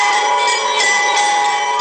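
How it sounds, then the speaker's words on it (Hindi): Temple bells ring at Ram Mandir in Ayodhya during the Surya Tilak ceremony for Ramlala. A continuous, bright metallic ringing holds steady and loud, with sustained tones and no break. "घंटियों और शंख की ध्वनि से पूरा राम मंदिर गूंज रहा था"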